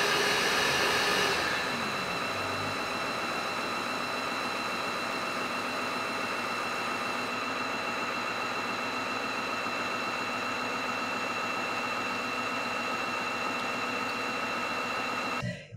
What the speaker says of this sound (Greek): ξεκινάει το self-cleaning, δηλαδή ο αυτοκαθαρισμός της σκούπας.